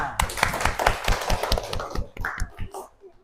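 Children in a fourth-grade classroom clapping together in quick, uneven bursts that fade out near the end, close and fairly loud, with a few voices mixed in.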